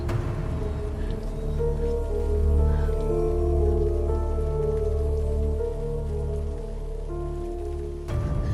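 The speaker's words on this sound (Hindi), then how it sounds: "इतनी बारिश हो रही है।" Steady, heavy rain pours down at night without a break, a dense wash of drops drumming on a surface, with a low rumbling bed underneath.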